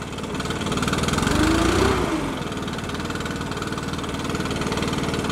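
A Stihl BR600 backpack leaf blower engine runs close by, rising briefly as the throttle is blipped and then settling back to a steady idle.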